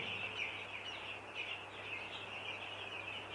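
A few-days-old poultry chick chirps in a high, continuous run of thin peeps with a low steady hum behind it, close by.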